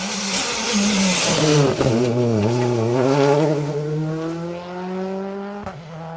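Rally car at the Down Rally 2023 stage taking a fast 90-degree right bend near Fisher's Leap in front of spectators, engine loud and close with a rising then steady drone as it sweeps through the corner.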